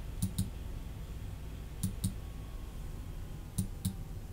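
Mouse button clicks while following links in a web browser, heard in three evenly spaced pairs of sharp, close double clicks over a faint, steady room hum.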